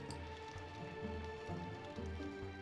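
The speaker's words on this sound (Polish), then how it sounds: "a to, że pada deszcz tutaj" Rain falling in the PS1 video game Aladdin in Nasira's Revenge, a steady, dense hiss that runs the whole time beneath the level's background music.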